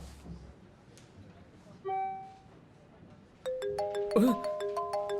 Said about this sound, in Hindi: फोन स्विच ऑन करते ही कॉल आ गया